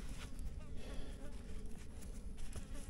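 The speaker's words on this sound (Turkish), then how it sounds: "Sineklere bak." Flies buzz around a truck stop, a wavering drone close to the ear that rises and dips in loudness while a voice talks at times beneath it.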